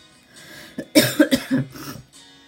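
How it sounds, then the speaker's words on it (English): Several short, harsh coughs from someone with post-nasal drip in a quick cluster, close and fairly loud, after a brief quiet breathy lead-in. "You're going to hear me coughing a lot because I have a lot of post-nasal drip"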